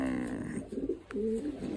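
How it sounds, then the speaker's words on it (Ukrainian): Pigeons cooing in a packed dovecote of adult birds and young squabs, soft throaty coos repeating close by, with a brief sharp click in between. "і самі голуби, і голубенята просто натрамбовані"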